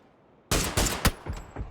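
Gunshots in the battle royale shooter PUBG, a sharp loud crack after brief quiet, followed by several more shots and echoing reports in quick irregular succession, with no voices.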